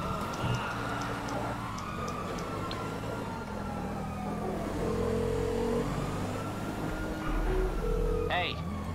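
Engine revving in the GTA video game, with a steady engine drone and shifting pitch sweeps running through the whole stretch, mixed with game noise, voices and a siren-like wail.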